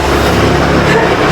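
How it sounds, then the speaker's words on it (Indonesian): A motorcycle engine runs outdoors near a makeshift podcast setup, a loud, steady drone with a low rumble that fills the whole moment without easing. "Belum lagi ini suara motor ini."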